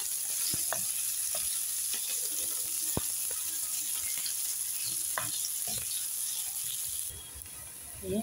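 Onion sizzles and fries in a pan for a diet dish, a steady close hiss broken by scattered sharp clicks and scrapes of stirring, continuing without talk.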